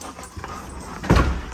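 Several dogs at feeding time let out close whimpers and short yips over a busy background, ending in a louder cluster of yelps.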